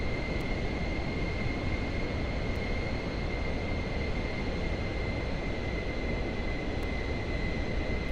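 Steady airplane engine drone during flight in Microsoft Flight Simulator 2024, a constant even roar with a thin high whine and a few faint clicks, no voices.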